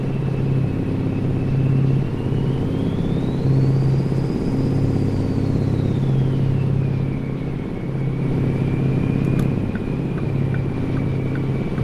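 A deep, steady modded Mack truck engine in American Truck Simulator rumbles continuously at close range, its pitch slowly rising and falling as it revs.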